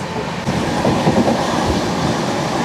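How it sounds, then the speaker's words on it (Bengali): Padatik Express train 12378 runs at night at about 105 km/h, a steady loud roar heard from on board with rhythmic clatter of wheels over rail joints. "পদাতিক কিন্তু এখন 105 কিলোমিটার প্রতি ঘন্টা স্পিডে কিন্তু চলছে"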